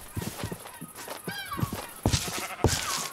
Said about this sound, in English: No, Mr. Sheep, come back